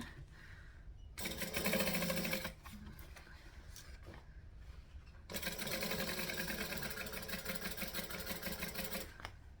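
A sewing machine stitches fabric in two sustained runs of rapid, even mechanical whirring, close and moderately loud, separated by a short pause with faint handling noise.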